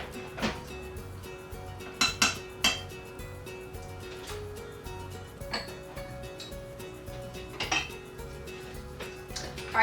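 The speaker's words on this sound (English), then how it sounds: "Yeah, I'm gonna stir it." A spoon stirs chocolate chips into thick muffin batter in a bowl, giving irregular clinks and scrapes against the dish over a faint background hum.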